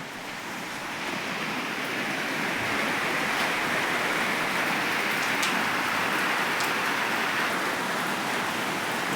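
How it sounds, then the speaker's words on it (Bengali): Steady rain falls continuously, a dense hiss of drops on surfaces at an even, moderate level with no voices. "দেখেন আমাদের এখানে বৃষ্টি চলছে।"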